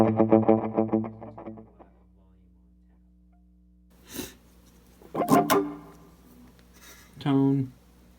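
Electric guitar through a BYOC Silver Pony distortion pedal with tone and gain full up: a loud distorted strummed chord rings and fades, then after a pause come bursts of pick noise, short gritty notes and a final chord stab.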